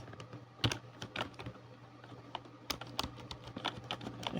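Close, fairly quiet keystrokes on a computer keyboard while HTML code is typed, irregular clusters of clicks with brief pauses between bursts.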